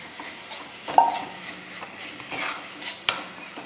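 Spoon stirring a Kerala Vishu ada filling in a pan, with scattered clinks and scrapes of metal on cookware spaced irregularly, fairly quiet and close, with no voices.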